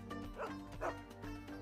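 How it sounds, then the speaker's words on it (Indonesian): A dog barks in a few quick, soft yips and bow-wows, fairly faint and a little distant, in a short burst of three or four calls. "Lalu Ishan mendengar gonggongan anjing"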